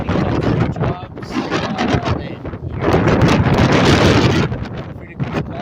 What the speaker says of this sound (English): A little bit too windy, but that's okay.